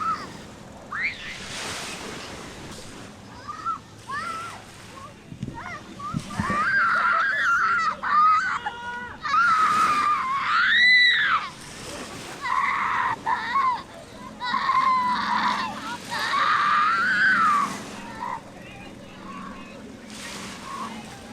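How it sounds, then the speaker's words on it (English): A child on Sydney Harbour lets out repeated high-pitched screams and squeals in loud bursts close by, over a background of wind and water. "you learn to decipher your child's screams and not to panic when they put one on"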